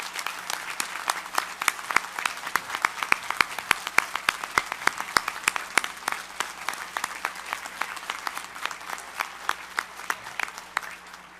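A large convention audience at a bowling congress annual meeting claps for the staff, dense sustained applause throughout, fairly close and steady, fading slightly at the end.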